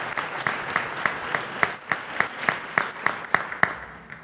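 Applause from a conference audience at a tech startup event, heard as a steady run of evenly spaced claps, fairly close and moderately loud with no talking over it.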